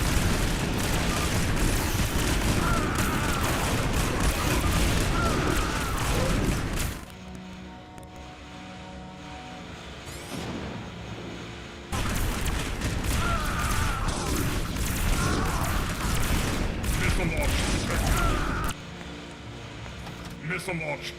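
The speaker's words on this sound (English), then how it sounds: "He's being nuked." A nuclear strike detonates in the strategy game Cosmonarchy: a long, roaring blast lasting several seconds, then a quieter pause, then a second sustained thunderous rumble. It is loud and close, with voices likely underneath.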